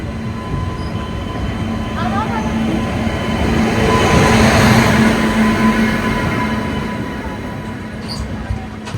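The Kerala Sampark Kranti Express pulls out of Ernakulam Junction with a loud, steady rumble of wheels and carriages and some squealing from the rails, heard close up from on board.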